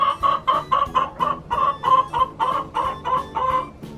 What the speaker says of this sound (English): There is no better sound than a chicken.